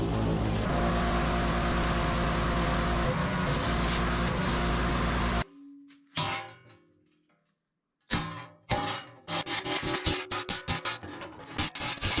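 Degreaser spray hisses steadily onto oily, leaking hydraulic hoses in a long, loud burst, followed by silence and then a series of shorter, sputtering sprays.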